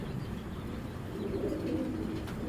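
Pigeons coo faintly and softly in a low, murmuring tone against a dense steady background, with no talk over them.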